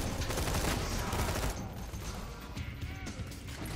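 Rapid rifle fire in Borderlands 2 rattles in a dense, close burst for the first second and a half, then continues as quieter, scattered shots.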